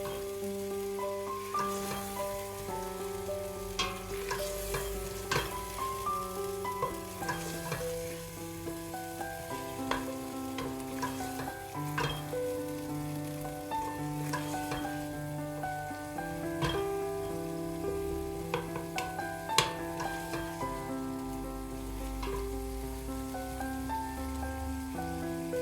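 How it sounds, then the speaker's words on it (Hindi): Finely chopped tomato frying with spiced chickpea masala for Lahori chana, a continuous close crackling sizzle with scattered spatter pops, under a steady backdrop of tonal music, with no talk. "और अब हम टमाटर को भी अच्छी तरह मिक्स होने तक पका लेंगे।"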